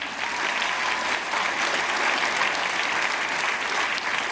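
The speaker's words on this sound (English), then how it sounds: "can we please give one more round of applause to all of our performers tonight?" A dense, even wash of audience applause for the performers at a singing competition show, steady and fairly close throughout, with no one speaking over it.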